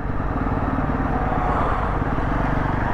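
A Triumph Trident motorcycle rides ahead on a twisting hill road, its engine giving a steady, close, unbroken drone that holds the same level throughout.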